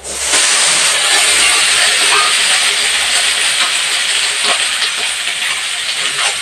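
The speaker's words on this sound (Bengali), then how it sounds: "তেল ভালোভাবে গরম হয়ে গেছে। দুটো চিকন লম্বা বেগুন এভাবে লম্বা করে কাটা আছে," Two thin, long eggplants, sliced lengthwise, fry in well-heated oil, producing a loud, continuous, close-up sizzle that stays strong and even with no talking.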